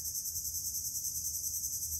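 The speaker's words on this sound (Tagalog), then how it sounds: "Ang sarap sa tainga ng kuliglig." Crickets chirp in a jungle at night, a dense continuous high-pitched trilling that holds steady and loud throughout, with only a faint low rumble beneath and no voices.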